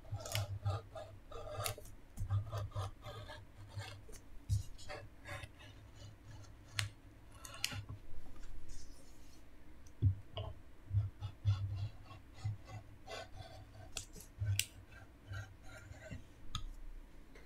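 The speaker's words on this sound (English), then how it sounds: "Place some pressure on the rotary cutter so it cuts nicely." A rotary cutter is pressed along fabric cut on the bias, giving faint, close, irregular clicks and soft crunching snips scattered over a quiet room hum, with no talking.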